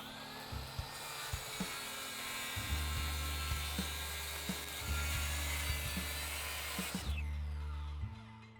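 A router fitted with a 45-degree bevel bit chamfers the edge of a wooden countertop, a whining motor with repeated bursts of cutting and clicking, fairly close, with no talk.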